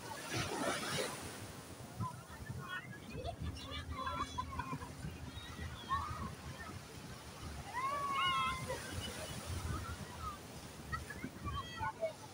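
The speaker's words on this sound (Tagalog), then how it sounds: "Mahina pa yung alon na yan. Hindi pa masyado malakas." Ocean surf on a beach, with fairly gentle, not yet strong waves washing in steadily under wind noise while people talk nearby.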